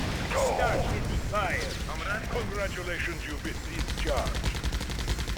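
Gunfire from the real-time strategy game Red Alert 2 Mental Omega rattles in repeated bursts under battle noise, with a voice talking over the action throughout.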